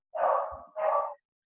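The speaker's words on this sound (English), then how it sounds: "oh my God, this dog is annoying." A dog barks twice in quick succession nearby, two full, sustained barks with a short gap between them and no talking over them.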